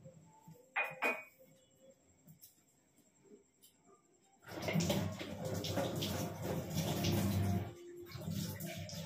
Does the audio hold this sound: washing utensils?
yes